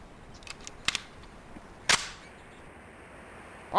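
A few sharp, cracking gunshots in the video game Police Quest: SWAT, spaced apart, with a louder one near the middle and another at the end, over faint background hiss.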